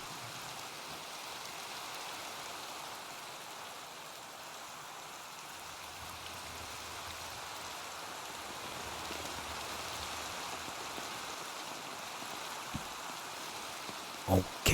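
Steady Minecraft rain, a soft, even hiss of falling drops that continues without a break, with a couple of faint clicks near the end.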